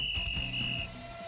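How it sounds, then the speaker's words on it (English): A referee's whistle blast in a story-driven video game, heard as one steady high tone that holds for most of a second over a low background hum, then cuts off. "Channing blows the whistle"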